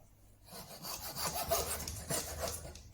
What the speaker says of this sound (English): I'm just going to cut it up into pieces about an inch long